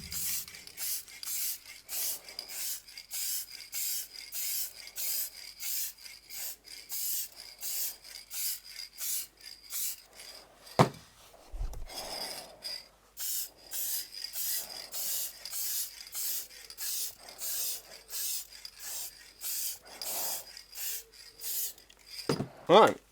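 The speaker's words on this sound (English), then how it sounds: "I don't know if my technique for spraying is any good or not" Kamar varnish sprayed from an aerosol can onto alcohol ink art, heard as repeated short hissing bursts in a steady pulsing rhythm, fairly close and continuing with brief pauses.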